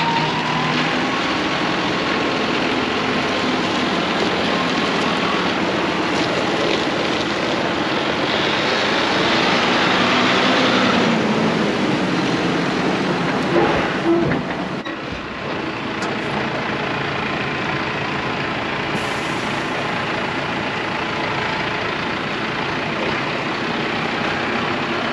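A continuous low Massey Ferguson tractor engine drone, steady and fairly loud, idling and running without a break for the whole stretch.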